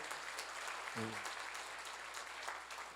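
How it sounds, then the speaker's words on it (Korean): A church seminar congregation claps during a sermon, a quiet, distant wash of applause with a brief spoken word near the start and a low hum underneath. "박수 좀 세게 쳐"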